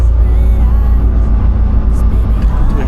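A modified, souped-up car pulls away on a city street downtown, its engine a loud steady low rumble in the foreground with continuous road noise and no speech.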